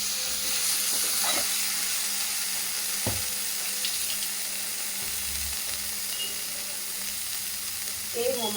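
Chopped tomatoes sizzle and fry steadily in a pan with a close, continuous hiss, broken by a few stirring scrapes and clinks.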